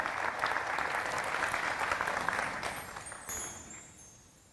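An audience claps loudly for performers at a stage show, dense sustained applause that holds steady, then thins and fades away toward the end.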